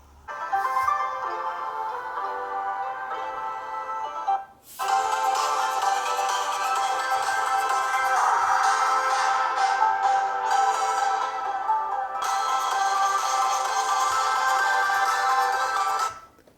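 A melodic ringtone plays loudly through the small, tinny built-in speaker of an Umidigi Bison Pro smartphone, sounding in three long bursts separated by brief gaps.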